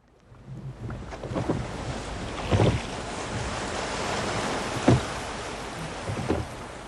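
Sea waves and wind wash around a rowing boat heading out toward rocky water, a broad rushing surf with several louder splashes and knocks from the oars and hull.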